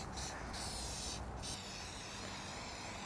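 A can of Loctite 7649 primer activator sprays a light coating onto a flange surface. The hiss is soft and steady, with two brief louder bursts near the start, and nobody talks.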